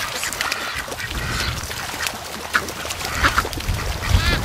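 A flock of domestic ducks quacks and honks continuously outdoors, overlapping calls close and loud with a few sharper squawks near the end.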